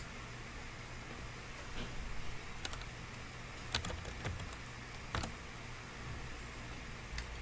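Fingers tap out keystrokes on a computer keyboard in short, irregular bursts of soft clicks, faint against a hissy room background, with no voices.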